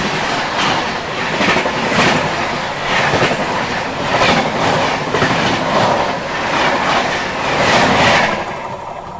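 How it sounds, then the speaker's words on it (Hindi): An Ahmedabad Double Decker Express hauled by a WAP-4 locomotive at about 130 passes close by, heard from another moving train as a loud, continuous roar with rhythmic clickety-clack of wheels on rails. "सामने से आ रही है Ahmedabad double decker express web 4 के साथ 130।"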